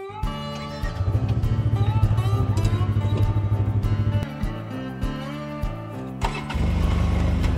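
Polaris RZR 1000 off-road side-by-side on KO tires and wheels fires up and revs hard. It drops to a few sputtering pulses, then roars back to full throttle.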